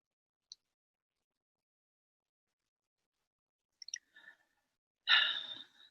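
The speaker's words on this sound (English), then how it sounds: "Now a nice deep breath into our chest." A single deep breath drawn in and let out slowly, close and fairly loud, after a few soft faint clicks and near silence.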